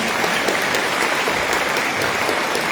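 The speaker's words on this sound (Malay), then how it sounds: "Boleh bagi tepukan saya." Audience applause fills a university ceremony hall, steady dense clapping from a large crowd throughout, loud and uninterrupted.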